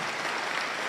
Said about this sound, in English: You should give yourself a round of applause about that.